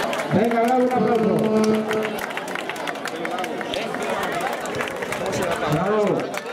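Steady clapping and crowd noise at the finish line of a 2011 countryside footrace in Valdemierque, continuous and close, with a voice calling out over the applause.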